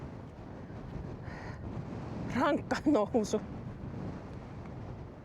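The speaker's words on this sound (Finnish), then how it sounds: "tuulee niin kuin siis tosi paljon" Strong wind on a fell top in Lapland buffets the microphone with a steady low roar. A voice speaks briefly in the middle.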